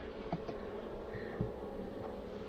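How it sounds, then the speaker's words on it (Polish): Honey bees hum steadily on a brood frame lifted from a split hive, a dense soft buzz throughout with a few brief louder passes close by. "pszczoły się wygryzają i czyszczą"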